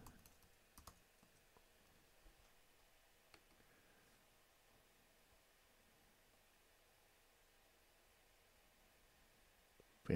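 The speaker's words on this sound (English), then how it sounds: "Maybe I should be typing in Brené." Sparse, soft key clicks from a computer keyboard tap irregularly over a faint background hiss.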